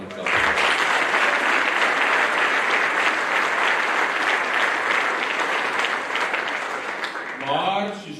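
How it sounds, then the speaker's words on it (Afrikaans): Warm applause from guests at a 2022 school sports dinner fills the room, a dense, loud roll of many hands clapping that holds steady, then thins out toward the end as a voice returns. "En ek wil hê julle moet vir almal wat betrokke was 'n lekker aan die klap."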